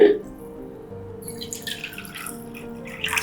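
Water is poured into a pot for mutton biryani, trickling and dripping close by while a person speaks over it.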